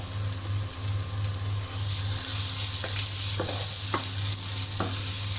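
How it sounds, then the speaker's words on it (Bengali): Ginger, garlic and cumin paste fries in hot oil along with onions and green chillies, giving a dense, continuous sizzle that swells partway through, with occasional spatula taps over a low steady hum. "তেলের সঙ্গে অল্প পরিমাণে একটু ভেজে নেব"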